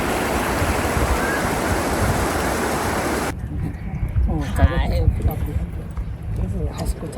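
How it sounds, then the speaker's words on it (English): A steaming waterfall in Yellowstone gives a constant broadband rush of falling water, loud and steady at first, then softer and more muffled, with a person talking over it in the second half. "Steaming waterfall."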